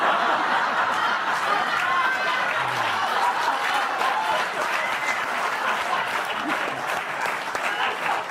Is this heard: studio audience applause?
yes